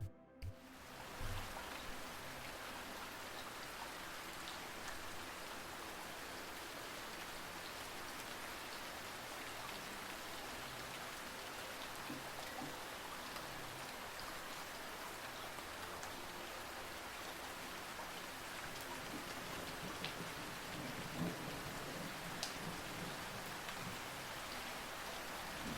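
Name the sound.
rain falling, relaxation sound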